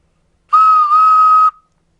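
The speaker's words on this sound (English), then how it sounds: "That's the noise of a train toot-tooting." A toy train whistle gives one clear, close tone of about a second, with a slight dip partway through, then falls silent.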